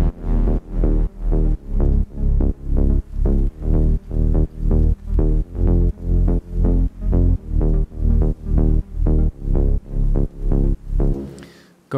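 Electronic dance track with a punchy bass saw step and layered bass elements, driving a steady, loud four-on-the-floor pulse of even beats that cuts off abruptly at the end, with no voices.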